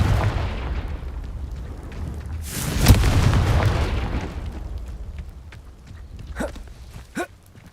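A Confringo blasting spell explodes in Hogwarts Legacy with a single loud, booming burst, its rumble fading over a couple of seconds, followed by a few sharp smaller cracks and pops.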